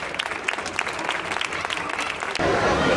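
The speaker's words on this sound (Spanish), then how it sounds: "Un aplauso para ellos." An audience at an autism awareness celebration claps, steady and moderately loud, with crowd murmur mixed in and a swell of fuller applause at the end.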